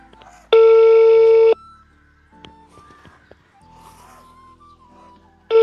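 A telephone busy tone sounds as a loud, clean beep of about a second, then a stretch of talking, then the beep starts again at the end.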